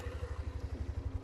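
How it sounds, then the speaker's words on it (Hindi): A 2024 Hero Xtreme 125R, a 125cc motorcycle with an i3S start system, runs close by in a steady, even thump of low exhaust pulses, loud and alone. "बाइक शुरू करते हैं।"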